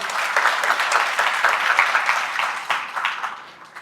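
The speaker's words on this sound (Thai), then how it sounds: "ขอเสียงปรบมือ" Applause from an audience at a political launch event in Thailand, welcoming a speaker: a dense, steady crowd clapping that swells and then gradually fades over a few seconds, loud and close.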